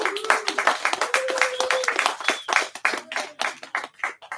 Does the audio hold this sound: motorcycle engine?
no